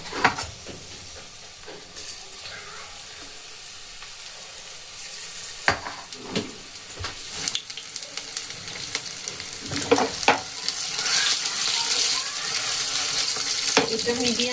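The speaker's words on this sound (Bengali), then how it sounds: "এটা মিডিয়াম টু লো ফ্লেমে এটাকে ভেজে নিতে হবে এগুলোকে।" Chicken posto pakoras fry in oil over medium to low flame with a steady, fairly quiet sizzle, punctuated by occasional clatters and splashes as pieces go in, growing denser toward the end.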